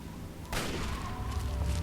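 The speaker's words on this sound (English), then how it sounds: "I hear gunfire." Distant gunfire from Fallout 3, a burst of shots around the half-second mark followed by a continuing muffled rattle at low to moderate level against steady game ambience.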